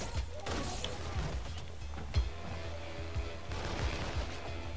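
Gunfire in Infamous Second Son, repeated rapid shots and impacts scattered through a busy game soundscape, moderately loud with some heavier bursts.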